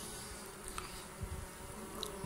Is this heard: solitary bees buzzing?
yes